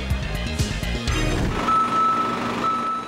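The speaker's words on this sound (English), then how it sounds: "6 a.m., the parade of delivery trucks begins as the ingredients for today's gourmet menu arrive." Delivery trucks reverse at a restaurant loading dock at 6 a.m., their repeated reversing beeps pulsing steadily over a low diesel engine rumble, close and loud, before a higher single tone takes over.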